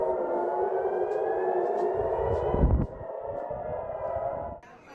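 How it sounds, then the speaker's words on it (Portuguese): A civil defense air raid siren wails steadily over Tel Aviv, loud and sustained with a long rising-and-falling tone, briefly broken by a low rumble before it fades. "as sirenes voltam a soar em Tel Aviv"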